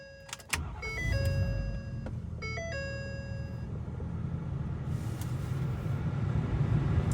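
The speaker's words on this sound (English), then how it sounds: "Just go ahead and start the truck." A Ford 6.7 Powerstroke diesel truck starts with a sharp crank into a steady idle, while a run of electronic chimes and warning tones plays over the rumble, with no talk.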